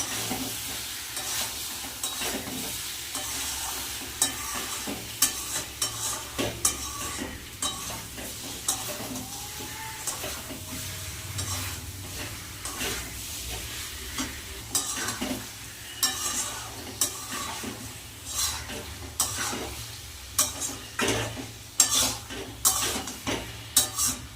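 Spices with red chilli powder and salt sizzle in a pan under repeated scraping strokes from a stirring spoon, with a steady fry hiss between the close, rhythmic scrapes and no talk.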